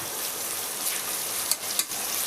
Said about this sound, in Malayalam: കുക്കറിലാണ് നമ്മൾ ഉള്ളി വാട്ടുന്നത്